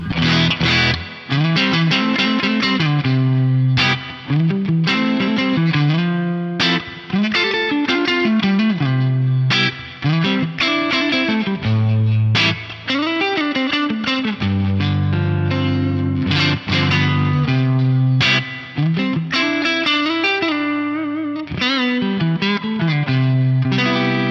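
Electric guitar through an Axe-Fx III Twin amp model with extra input drive, with chorus and effects; loud, close chordal strums and riffs in rhythmic bursts with brief gaps, alone.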